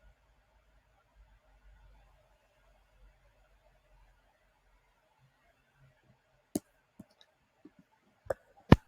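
Computer mouse clicks sound as a few sharp, isolated ticks near the end of an otherwise quiet stretch, close and crisp, with a quick double click toward the finish.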